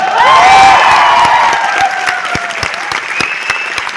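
Audience clapping at a success celebration, loud and dense at first with a tonal ringing over it, then thinning into scattered individual claps.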